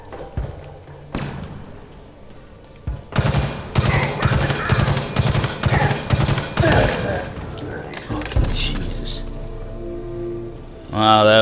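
Sniper and other weapon fire from the Halo Infinite game crackle in repeated rapid bursts and thuds during a Legendary-difficulty Conservatory mission, loud and close, while a player talks excitedly over the shooting.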